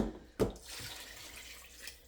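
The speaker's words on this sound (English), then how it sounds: "And I'm going to add water to my pot" Tap water runs into a cooking pot that already holds rinsed chicken, starting with a brief thud and then settling into a steady, close hiss of filling water, with no talking.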